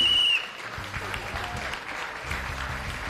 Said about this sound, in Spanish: fuerte el aplauso para recibir a Waldemar